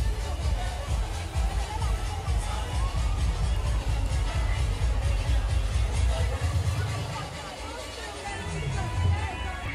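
Busy crowd at an aquapark breakfast area, a dense steady babble of many voices with shouts and children's cries, loud and continuous, easing slightly near the end.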